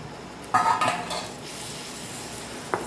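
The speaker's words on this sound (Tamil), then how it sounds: "தக்காளியை சேர்த்துட்டு வதக்கி விட்டுருக்கோம்" Metal utensils scrape and clatter against a pan in a few quick strokes as chopped tomatoes are sautéed, with a faint sizzle underneath and a final clink near the end.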